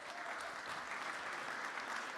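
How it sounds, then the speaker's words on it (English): Audience applauding the mentors at a hackathon closing ceremony in London, a soft, distant wash of clapping that stays even throughout. "Please give them a big round of applause."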